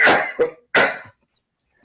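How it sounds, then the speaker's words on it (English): Two harsh, close coughs in quick succession, then a brief quiet gap before a faint start of another sound. "Oh, I'm coughing"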